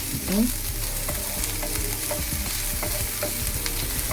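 Onions caramelizing in a pan for spaghetti bolognese give a loud, continuous close sizzle broken by regular spatula scrapes, with a brief squeak near the start and no talking.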